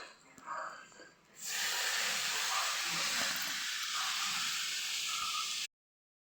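Hadga (agati) flower vegetable hitting a hot pan bursts into a loud, steady sizzle that holds for several seconds before cutting off, following a quieter stretch of faint kitchen sounds.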